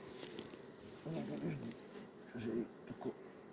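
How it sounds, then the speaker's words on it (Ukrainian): Low droning buzz of many honeybees on a hive frame, close by, rising and falling in short swells with faint handling noises. "О, тут бджоли, мабуть, трохи більше."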